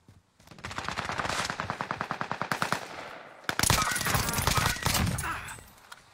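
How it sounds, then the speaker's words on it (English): Rapid automatic gunfire from a UAV strike in a video game, a loud, sustained rattling burst of evenly spaced shots that breaks off briefly, then resumes as a denser, louder barrage of blasts before fading out. "UAV beginning fire."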